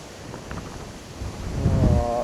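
Strong wind gusts buffeting the microphone beside the River Tweed, a broad low rumble that swells and grows louder toward the end, with no other clear sounds above it.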